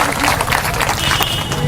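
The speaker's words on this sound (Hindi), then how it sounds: "तालियों के साथ, गड़गड़ाहट के साथ में सुंदर जो वक्ता दिया जा रहा है" Applause from a crowded audience at a public meeting, a dense, steady wash of many hands clapping that fills the whole stretch without a break, with murmured voices mixed into the roar.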